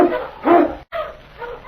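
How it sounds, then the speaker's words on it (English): Eskimo lead dog barking in a snowy Yukon storm, two loud close barks separated by a brief gap, then softer trailing yelps. "King, the swiftest, strongest of Eskimo lead dogs, blazes the trail through storm and snow for Sergeant Preston"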